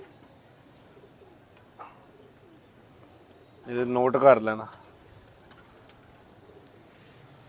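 Lakhi breed pigeons cooing faintly in a loft, a single short throaty coo burst rising out of quiet background, with someone speaking nearby.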